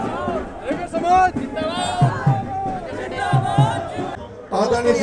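Large Raigar community gathering at a mass event, a dense crowd babble of many overlapping voices with shouts rising and falling continuously, some voices close and loud over the general hubbub.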